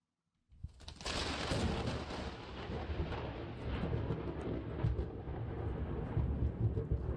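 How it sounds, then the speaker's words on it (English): A raging storm in the video game When Summer is Over: thunder cracks in suddenly after a moment of silence, then rolls on as a long, dense rumble with rain-like texture, fairly quiet overall. "I love thunder as much as the next gal, but I'm trying to sleep."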